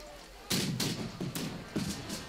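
Cannon fire in the strategy game March to Glory: a series of about six dull booming thuds spaced roughly a third of a second apart, moderately loud over a low background hum.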